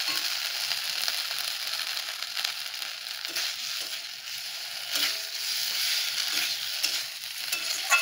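Masala spice paste fries in a pan with a bright crackling sizzle, steady throughout with occasional scraping stirs, close and fairly loud, no voices.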